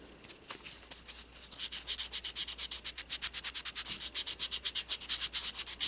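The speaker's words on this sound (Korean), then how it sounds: "두 번째는 조금 고운 사포를 활용해서" Fine sandpaper rubbed against a small miniature bowl after coarser grit, a close, quiet, rhythmic scratching of rapid back-and-forth strokes that grows steadier and more even as it goes.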